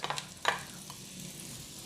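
Onions go into a pan with very little oil, giving a brief soft sizzle and a couple of light scraping stirs that fade into a low, quiet hiss.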